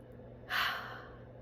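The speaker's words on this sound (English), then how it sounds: "One more deep breath in." A single deep breath drawn in through the mouth during a guided grief meditation, rising softly and trailing off, close and quiet with no talking.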